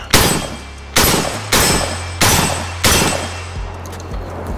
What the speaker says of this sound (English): Five shots for the road.